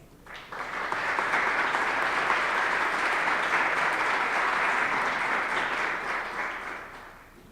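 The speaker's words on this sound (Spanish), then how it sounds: "Un aplauso para ellos." Audience applause fills a book launch hall, a steady dense wash of clapping that swells quickly, holds for several seconds and tapers off near the end.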